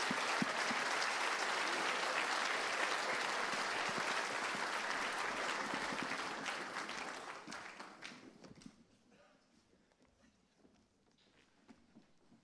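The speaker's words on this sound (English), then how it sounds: "Everybody, please, a round of applause for incredible alumni." A school anniversary celebration audience gives a loud, dense round of applause for alumni, sustained for several seconds before thinning into scattered claps and fading out.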